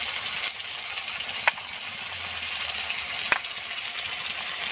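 Tomato, cumin, ground coriander, chilli and turmeric powder fry steadily in a pan for cabbage kofta stuffed with prawns, a constant loud sizzle with a couple of faint clinks.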